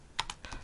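Brief computer keyboard typing, a few quick close key clicks in a quiet room.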